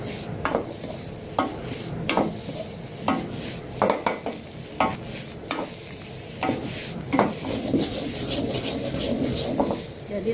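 A spatula scrapes and tosses Thai-style nasi goreng with tomato in a sizzling pan, with rhythmic stirring strokes repeating roughly every second over a steady frying hiss, close and moderately loud.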